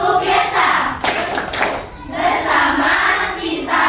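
Children in a classroom clap together in a rhythmic chant pattern, bursts of clapping broken by brief pauses, with young voices chanting along close by.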